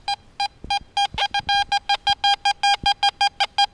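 A Teknetics G2 UPG metal detector answers metal with a rapid train of short, evenly spaced electronic beeps, about five per second, loud and close with no talking.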